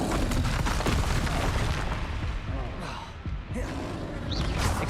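A Confringo explosive spell cast in Hogwarts Legacy bursts into a loud, dense blast, with sustained crackling and rumbling debris noise for several seconds as a voice calls out over it.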